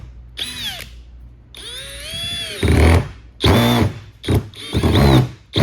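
A power drill drives a screw flush into the work, heard as several short whirring bursts that rise and fall in pitch, with brief pauses between them and no talking.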